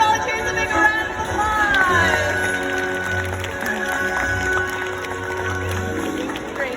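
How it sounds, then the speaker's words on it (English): At a SeaWorld San Diego killer whale show, an arena crowd claps and cheers for the volunteers with a broad, sustained wash of applause while a presenter keeps talking over it. "Let's give our brave volunteers a big round of"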